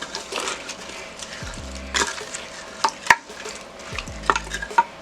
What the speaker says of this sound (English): I'm going to go ahead and put in our onions now. I'm going to kind of stir this up a little bit.